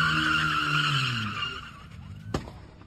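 A cart tied behind a BMW 5 Series swings into a car door: squealing, fading vehicle noise gives way to one sharp, loud bang near the end.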